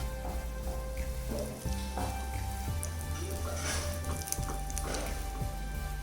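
Steady sizzling of Kashmiri red chili tempering frying in hot ghee, continuous and close, with faint crackles rising over a low hum.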